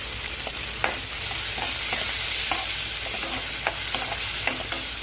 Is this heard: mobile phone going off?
no